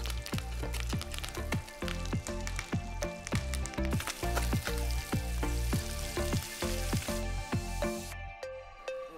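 Garlic cloves and thyme fry in a hot pan, a steady close sizzle with crackling pops throughout, no talking.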